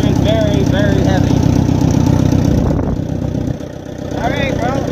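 A heavy Allis Chalmers D17 tractor engine runs steadily with a low, throbbing rumble. It stays loud and close throughout and dips briefly near the end, with faint voices mixed in.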